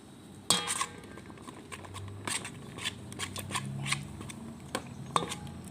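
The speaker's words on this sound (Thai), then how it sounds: "ใส่ไข่ไก่1ฟอง นะครับ แล้วก็คนส่วนผสมให้เข้ากันครับท่านผู้ชม" A utensil scrapes and clinks against a bowl in irregular strokes as one hen's egg is stirred into a thick mixture, close by with no talking.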